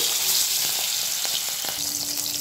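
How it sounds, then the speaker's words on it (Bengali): Fish fries in hot mustard oil in a home kitchen, a dense steady sizzle with a few soft pops and faint utensil clinks, close and continuous throughout. "তেলটা ভালো করে গরম হয়ে গেছে, এবার মাছগুলো ভেজে নেব"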